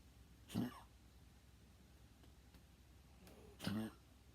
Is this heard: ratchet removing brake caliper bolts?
no